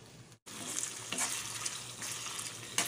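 Chicken karahi sizzles steadily in a wok while being stirred, with a dense broadband frying hiss and occasional louder scraping strokes, close and continuous, with no voices.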